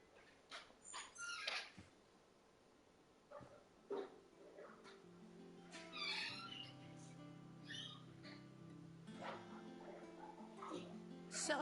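Torgal, a wolf dog in Final Fantasy 16, gives a run of yips and barks, then whimpers, over soft in-game background music.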